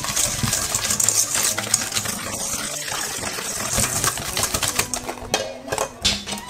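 Egg yolks, sugar and vanilla extract are whisked together in a bowl for a chocolate praline Christmas log, giving busy clattering, scraping strokes with small metallic ticks throughout, loud and close.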